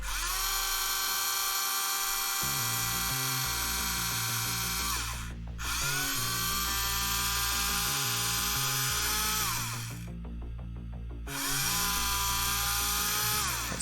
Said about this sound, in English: pardon my drilling, folks.